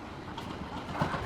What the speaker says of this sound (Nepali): हाम्रो चाहिँ ट्रेन आइसकेको छ